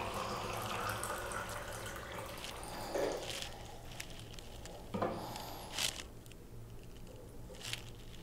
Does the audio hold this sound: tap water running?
yes